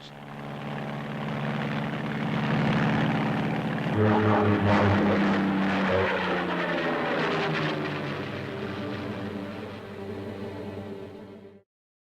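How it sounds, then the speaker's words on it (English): Curtiss XP-55 Ascender, a tail-first pusher-propeller aircraft, roars past in flight with a loud propeller drone whose pitch sweeps downward as it passes, then cuts off abruptly. "In action, the darting tail-first Ascender seems to fly backwards."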